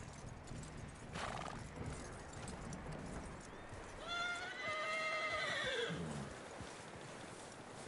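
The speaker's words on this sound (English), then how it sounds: "That looks like a decent horse. You should keep him." Horse from a PS4 video game whinnies in a clear rising-falling call midway, with steady hoof clip-clops and ambient outdoor game noise running throughout.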